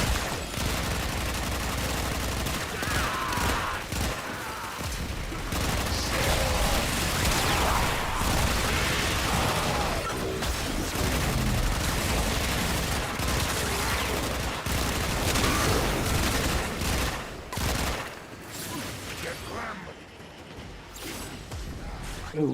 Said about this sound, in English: It's taking a substantial amount of time for me to machine gun the enemy